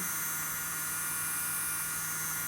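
A small portable electric nail file motor whines steadily with a thin, high-pitched buzz, constant and unchanging throughout, fairly quiet and close.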